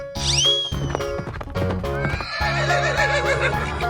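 A horse in a 3D animal video game gives a loud, shrill neigh that falls in pitch, followed by a snort and a second quavering whinny, close up and alone.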